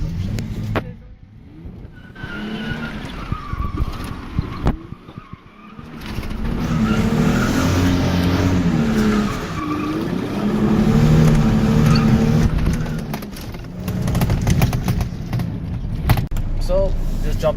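A car drifting on a private road in Mexico, the engine swelling and falling in waves with scraping tire noise, loud and close after a quieter opening, with voices heard in between.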